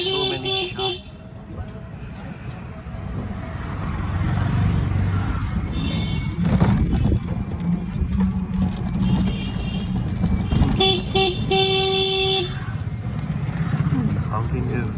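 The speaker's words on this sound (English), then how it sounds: "This is rickshaw ride in local market of Kolkata." Busy local market street in Kolkata heard from a rickshaw ride, with steady traffic rumble, engines and repeated car horn toots, plus voices in the crowd throughout.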